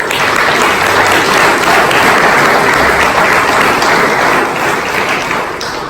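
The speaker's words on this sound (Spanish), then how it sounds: "Dale un aplauso a Dios." A church congregation at Vida Abundante Tucson breaks into loud, dense applause during a Spanish-language sermon. The clapping is continuous and full, tapering off slightly toward the end.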